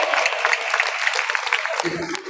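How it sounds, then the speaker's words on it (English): Audience clapping at a SeaWorld dolphin show, a loud, continuous wash of applause from a crowd, with a voice briefly audible toward the end. "And that is the round of applause,"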